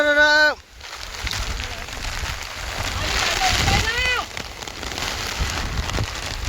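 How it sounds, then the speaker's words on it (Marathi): Heavy monsoon rainstorm with strong wind in rural Konkan during rice threshing, a dense, loud roar of rain pounding surfaces throughout, with people calling out and talking over it. "लय जोरात पाऊस आलाय"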